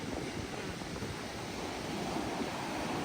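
Ocean surf at Baler beach in Aurora, a steady, broad wash of breaking waves mixed with wind buffeting the microphone, loud and continuous.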